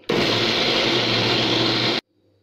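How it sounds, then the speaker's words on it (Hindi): A mixer grinder whirs steadily as it grinds ginger and green chilli into paste. The loud, even motor drone runs for about two seconds and then cuts off sharply. "हमें इसे इस तरीके से पीसना है कि हमारे मिक्सर ग्राइंडर पे ज़्यादा जोर भी ना पड़े"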